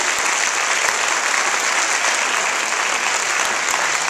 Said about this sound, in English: if y'all will give them a big round of applause